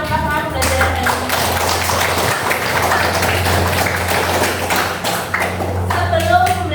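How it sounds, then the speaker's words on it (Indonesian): Students in a classroom applauding, a dense, steady burst of clapping from many hands that lasts several seconds, with some talk mixed in. "Beri tepuk tangan untuk kalian semua yang sudah melakukan pelajaran hari ini."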